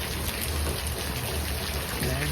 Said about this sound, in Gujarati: બેઠા હોય શ્રીમાન બહાર પડે છે વરસાદ